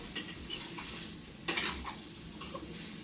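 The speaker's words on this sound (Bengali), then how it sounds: "নেড়ে চেড়ে যখন লাউটা টকবক হয়ে ফুটতে শুরু করবে" Bottle gourd with prawns being stirred in a pan, with a few distinct scraping clinks of the spoon against the metal over a soft simmering sizzle, no talking.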